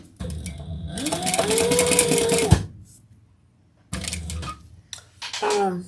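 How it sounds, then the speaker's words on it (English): A sewing machine stitches a seam in quick, rattling bursts: a run of about two seconds that rises to a whirring pitch, a pause of near silence, then shorter clattering runs, all close and clear. "Then we're going to sew that at the seam allowance in the pattern."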